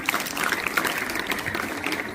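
An audience at a school quiz competition claps for a team, a dense patter of many hands at moderate volume, sustained throughout the brief stretch.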